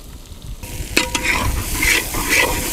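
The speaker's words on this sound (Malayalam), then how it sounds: "അടുത്ത് നമുക്ക് ഈ ചെറുതായി അരിഞ്ഞെടുത്ത പച്ചമുളക് അങ്ങോട്ട് ഇട്ട് കൊടുക്കുക" Onion, ginger, garlic and green chilies frying in a pan for veg samosa filling, a steady close sizzle with a sharp stir scrape near one second, no talking.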